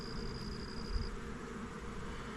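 Honey bees buzz around small nuc hives in a bee yard, a dense continuous low droning hum with a thin steady whine briefly standing out over it, fairly close and constant.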